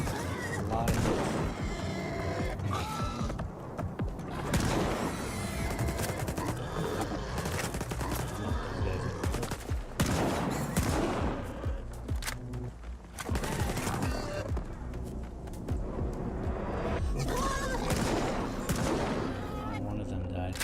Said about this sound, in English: A shotgun up close, a lot of hits.